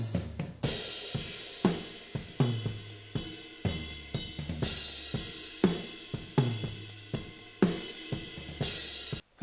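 Full drum kit captured through a pair of AKG 451 overhead microphones with no EQ, a steady groove of punchy kick and snare hits under bright, sustained cymbal wash, close and loud with no talking.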